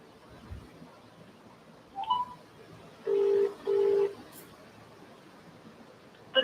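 Two short, clear keypad tones sound in quick succession as a phone dials a call, set against a quiet room with a few faint clicks and rustles.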